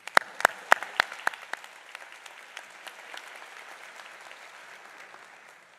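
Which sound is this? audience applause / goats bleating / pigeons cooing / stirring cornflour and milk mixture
audience applause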